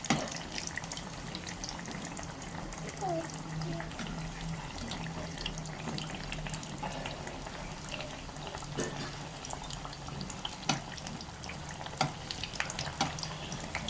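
Chilli and raw banana bondas sizzle steadily in hot oil, a soft, continuous crackle with occasional sharper pops and faint clinks close by, with no talk over it.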